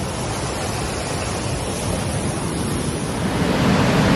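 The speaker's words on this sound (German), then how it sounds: "Da hinten ist der schöne Wasserfall" A steady, dense rush of a waterfall in Ticino, Switzerland roars continuously, loud and unbroken, swelling slightly toward the end.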